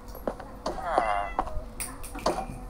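A short Minecraft cat meow with a bending, wavering pitch rises over low game background sounds, with brief clicks and scattered noises around it.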